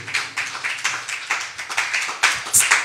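A church congregation claps together in acclaim of the Lord, a dense, lively burst of many hands striking in a quick, fairly steady rhythm, loud and close and continuing throughout.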